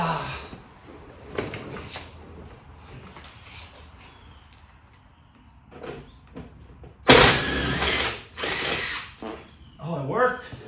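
Power wrench on a 1966 Plymouth Belvedere II, short close whirring bursts with a loud sustained run late on, amid shop noise and people talking.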